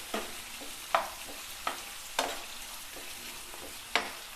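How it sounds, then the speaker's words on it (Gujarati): Onion and tomato softening in a pan for a leftover-rice pulao make a quiet, steady sizzle, with about half a dozen sharp spatula taps and scrapes spaced unevenly across it, heard up close. "તો આવી રીતે ડુંગળી અને ટમેટાને સોફ્ટ થવા દેશું"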